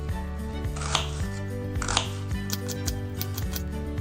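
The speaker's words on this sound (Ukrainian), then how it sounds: "Цибульку ріжемо дрібними кубиками" Onion chopped into small cubes with a knife on a board, a few sharp cuts heard fairly softly over a steady background hum, with no talk.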